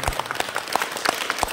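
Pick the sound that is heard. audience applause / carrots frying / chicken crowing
audience applause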